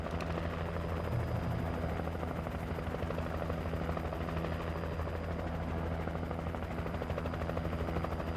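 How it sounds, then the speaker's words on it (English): A helicopter in the video game Alan Wake Remastered flies close overhead, a loud, steady rotor roar with a thumping beat that fills the whole stretch without letup. "Oh no, helicopter, light support."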